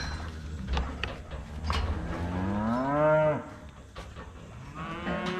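Cows moo loudly and close by in a farm catch pen during calf processing and pregnancy testing, a long drawn-out bellow rising and falling over a background of shuffling and clanking.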